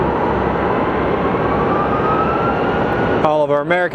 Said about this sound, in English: All of our American planes are starting to depart.